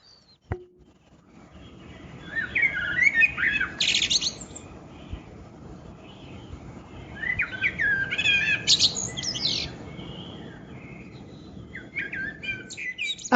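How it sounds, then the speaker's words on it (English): Skylarks sing in open upland country, two long bursts of bright, rapid trilling and chirping at moderate distance over a steady background hush, with no voices. "the majority of birds I'm seeing, I'm hearing, and you can hear them, skylarks"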